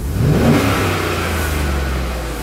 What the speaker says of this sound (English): it sounds great when you rev her up